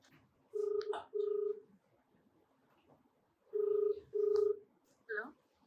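Telephone keypad tones as a call is dialed, steady beeps in two pairs separated by a pause, clear and close in a quiet room, followed by a short vocal sound at the end.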